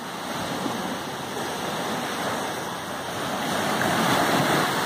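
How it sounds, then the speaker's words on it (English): Ocean waves roll in on a shore, a continuous broadband surf wash with a steady hiss that swells louder toward the end, with no speech. "But look at these waves coming in, crystal clear."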